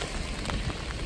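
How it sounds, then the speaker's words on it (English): Rain falling near the shore at Point Pelee, a dense, continuous patter with soft surf wash underneath, steady and fairly loud with no voices. "it seems drier over there and wet here, raining with waves."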